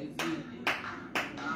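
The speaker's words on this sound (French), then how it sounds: "Acclamez." Congregation applauding during a morning prayer service, three bursts of clapping roughly half a second apart, a lively room of hands beating together over a low murmur.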